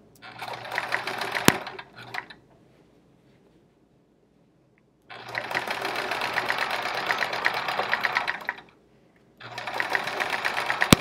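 A sewing machine free-motion quilting a Charming Chevrons quilt runs in three steady, close bursts of rapid stitching, with quiet pauses between runs.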